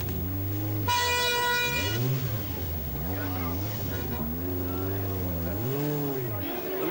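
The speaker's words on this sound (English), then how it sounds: "Impatiently, he sounds the horn." A rally car's horn at the 1985 Portuguese Rally blares in a long blast, then honks again in several shorter bursts over engine rumble and a voice talking.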